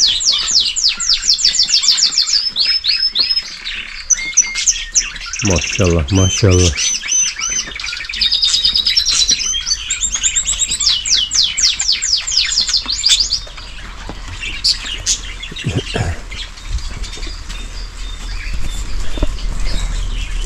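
Small songbirds chirp and trill in quick, repeated bursts during rain, with steady patter beneath; the singing is dense for the first two-thirds, then thins out, and a person speaks briefly midway.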